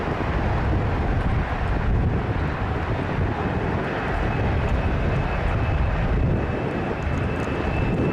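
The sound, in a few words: Boeing 747 taking off at air show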